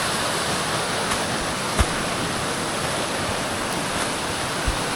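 A mountain stream flowing through a snowy cut, a steady broadband rush of running water heard close and continuous, with a couple of faint soft knocks and no voices.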